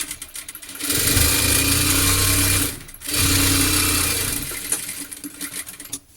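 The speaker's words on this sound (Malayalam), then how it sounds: "അതിന് ശേഷം അതിൻ്റെ അരികൊന്ന് സ്റ്റിച്ച് ചെയ്തെടുക്കുന്നുണ്ട്" Sewing machine stitching along the edge of cut fabric for a top, running loud and close in two steady bursts with a brief pause between them, then slowing into scattered handling noises.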